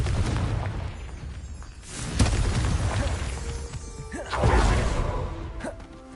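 Confringo blasting spell from Hogwarts Legacy gameplay, with two booming bursts, one near two seconds and a bigger one near four and a half seconds, over a rumbling backdrop of game effects.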